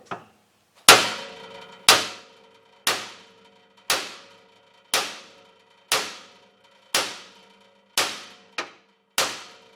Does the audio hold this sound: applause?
no